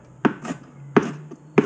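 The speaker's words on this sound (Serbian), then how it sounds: "Sve seckam na vrlo tanko." Three sharp knife strikes on a cutting board as hot peppers are sliced very thinly, evenly spaced and close, with faint quiet pauses between them.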